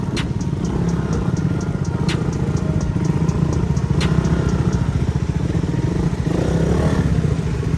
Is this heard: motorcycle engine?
yes